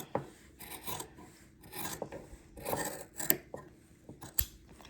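Scissors cutting freehand through a strip of fabric, with repeated rasping snips in an uneven rhythm, close and fairly quiet, with no talk.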